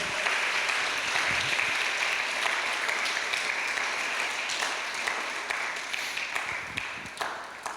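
Worshippers in a church applaud the Lord with a full, sustained roar of clapping, close and loud, holding steady for several seconds with occasional louder individual claps and no voices over it.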